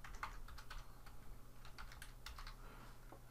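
Quick, uneven run of close key clicks on a computer keyboard while entering an HTML signature in desktop MS Outlook, steady throughout with no speech.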